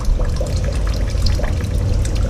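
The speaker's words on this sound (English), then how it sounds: "That is just pouring out of the wall." Floodwater pouring out of the walls of a flooded basement after heavy rain: a steady, close, rushing splash of water that runs without a break, with no one talking.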